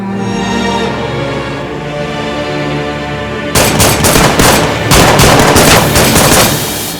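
Gunshots aimed at car tyres ring out in a dramatic dubbed scene: a loud, rapid volley of sharp cracks that breaks in abruptly over a steady music bed and continues in clustered bursts.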